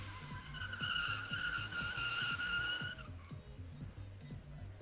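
Drift car doing a burnout at the Big Indian Drift Pit, tires squealing loudly in a steady high whine over the engine's pulsing low rumble for about three seconds, then the squeal cuts out and the engine drones on alone.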